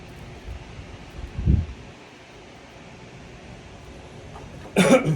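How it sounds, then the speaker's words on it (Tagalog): Two short coughs from a nearby person, one softer early on and a sharper one near the end, separated by quiet room noise. "Di ba ako gumagaling sa ubo, meron pa ako ubo."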